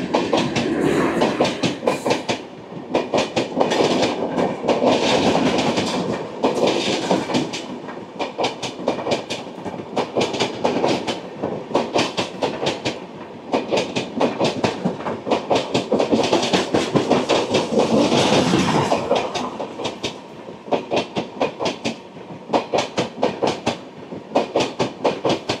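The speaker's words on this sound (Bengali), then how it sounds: "১২-৫০২ আগরতলা কলকাতা গরিব রথ এক্সপ্রেস, সঙ্গে লোকোমোটিভ আছে WDG4 আগরতলা কলকাতা গরিব রথ এক্সপ্রেস।" Agartala–Kolkata Garib Rath Express hauled by a WDG4 diesel locomotive rolls by close and loud, a steady rhythmic clickety-clack of wagon wheels running over rail joints for the whole stretch, with no voices.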